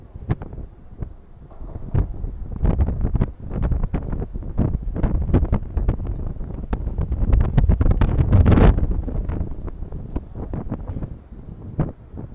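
Strong wind buffets a microphone on a rooftop in Hanover, with loud, gusting rumbles and repeated blasts that swell and fade across the whole stretch, with no one talking.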